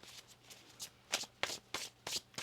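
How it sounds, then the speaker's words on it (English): A deck of tarot cards is shuffled in a quiet room, with soft riffling and several sharper flicks that grow more distinct over a couple of seconds. No one speaks. "One more shuffle."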